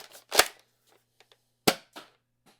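A Nerf Fortnite SMG-Zesty blaster fires two darts, each a sharp, loud pop-and-thwack about a second apart, followed by faint clicks and handling sounds in an otherwise quiet room.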